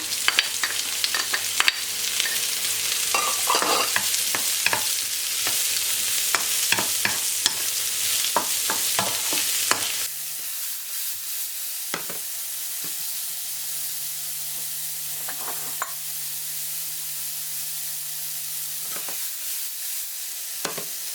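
Mushrooms, onion and garlic sizzle in butter in a pan for a mushroom risotto, a bright continuous frying hiss broken by repeated scraping stirs, quieter and sparser in the second half.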